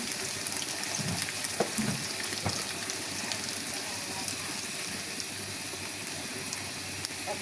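Water poured into a pan of okra being cooked: a steady, continuous splashing and hissing stream with a few louder bumps near the start, fairly faint and even throughout.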